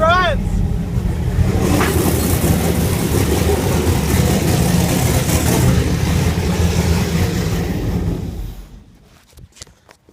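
A turbocharged 5.3 engine fires up and runs at a loud, rough, steady idle nearby with a rumbling low drone, and a voice briefly cheers at the start before the engine cuts off near the end.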